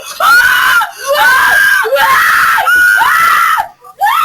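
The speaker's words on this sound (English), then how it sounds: "They are heard on security video screaming." Women scream in long, piercing, repeated bursts on a security video recording, loud and distorted, with brief gaps between cries.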